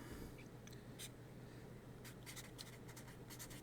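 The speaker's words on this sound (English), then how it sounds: "I can sign my name with a little note." A pen signs a name on a blank sheet of paper, making faint, close scratchy strokes in short bursts over quiet room tone.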